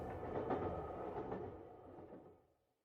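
Train rumbling with a broad low roar that holds steady and then fades away into silence over a few seconds.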